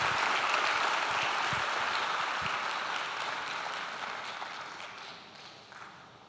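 Church congregation applauding together, a broad steady wash of clapping that fades gradually toward the end.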